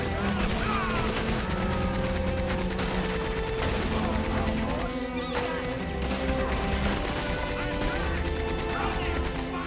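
Heavy gunfire rattles through a nighttime firefight in Red Dead Redemption 2, with sustained bursts of shots, crashing impacts and a steady, loud barrage while people talk over it.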